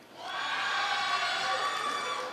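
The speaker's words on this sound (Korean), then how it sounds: "사상 가장 큰 환호가 나오고 있습니다" A large audience at a university alumni choir festival swells into a sustained roar of cheering and shouting that holds loud and steady for a couple of seconds before easing slightly.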